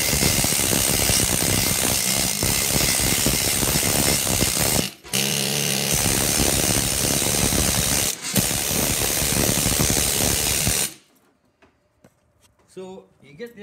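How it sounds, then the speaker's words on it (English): An air-powered needle scaler hammers flaky rust and paint off an LS engine, a loud, harsh, continuous rattling chatter up close with two brief pauses, before it cuts off into near silence. "an air chisel with little needles on it like this"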